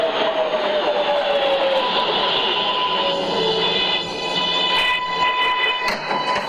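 A 1997 New York City subway 2 train pulls into a station with steady rumbling, squealing wheels and rising tones, loud and close, continuing throughout.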